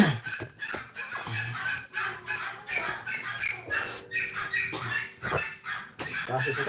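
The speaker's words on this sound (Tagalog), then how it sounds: "Maingay yung aso." A neighbour's dog barks several times in short, irregular outbursts that sound a little distant, with people talking in the background.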